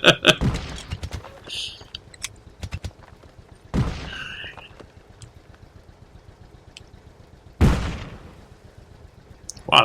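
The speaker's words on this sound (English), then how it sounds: "Wow, that was a big sounding explosion." Heavy explosions and tank cannon blasts from a World of Tanks battle, with a loud boom at the start, another near four seconds and a big blast around eight seconds, separated by quieter gunfire and rumble.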